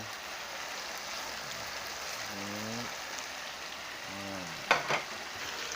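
Liver fries in a pan with a steady, moderate sizzle and a brief clatter near the end; a voice briefly murmurs twice in between.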